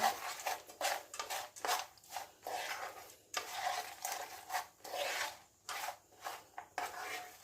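Peanut candy mixture stirred in a pan, a steady run of rasping scrapes as the spoon drags through the thick sticky mass, repeated in uneven strokes close by with no talking.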